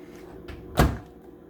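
A large over-the-range microwave combined with a kitchen hood is shut with a single close, solid thump of its door, preceded by a faint click and followed by a quiet room.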